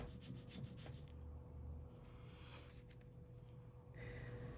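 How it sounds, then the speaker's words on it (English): Soft, steady scraping and rubbing of an ink stick ground against an ink stone in slow repeated strokes, very faint and close with no talking. "You should hear some scraping as you grind ink into your hill."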